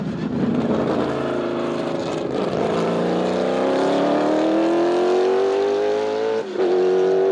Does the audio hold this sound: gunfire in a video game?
no